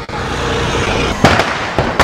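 A few sharp Diwali firecracker pops ring out over a steady background hiss, with one bang and then two more spaced apart.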